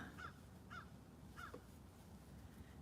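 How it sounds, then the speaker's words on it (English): Three harsh crow caws spaced roughly half a second apart ring out over steady background noise, moderately distant, outdoors on a nature walk. "Can you hear that bird?"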